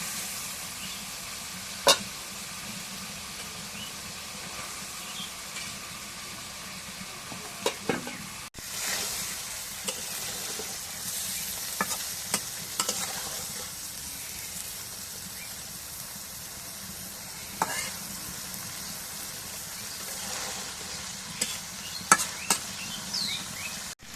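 Boroli fish from the Dharla river stir-fried in spice masala, a steady sizzle with scraping stirs and occasional sharp knocks of a spatula against the pan, close and without talk.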